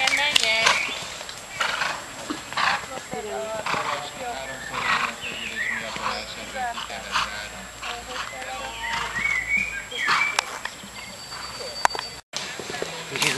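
A horse's hooves clop irregularly nearby, with occasional snorts and movement noises while people talk over them, at a riding tournament with a cross-country course.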